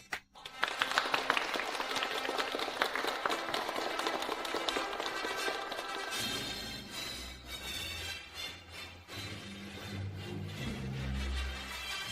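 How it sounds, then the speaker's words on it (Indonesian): Applause welcoming a bride and groom to the stage at a wedding: a steady wash of clapping from a gathered crowd that carries on beneath rising music in the second half. "mari kita beri tepuk tangan meriah untuk menyambut pengantin pria dan wanita"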